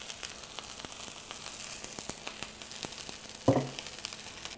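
Zucchini slices fry in a pan, a soft, steady sizzle with fine crackles running throughout, close but faint, with one brief louder rustle near the end.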